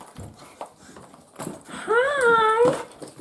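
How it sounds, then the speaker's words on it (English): Dogs shut in a room whine and whimper with scrabbling and bumping noises, one drawn-out high whine standing out in the middle, close and fairly loud. "My dogs are trying to escape in the room."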